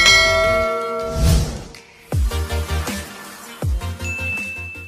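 A notification bell sound effect rings out in bright, resonant chimes, a ringing tone followed by several quick struck dings that decay, loud and close with no talk.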